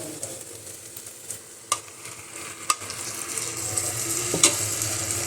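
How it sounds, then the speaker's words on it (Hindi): Masala fries in a clay pot while it is stirred, giving a soft steady sizzle that builds slightly, broken by a few light scraping clicks. "तो इसको मैं भून लेती हूँ"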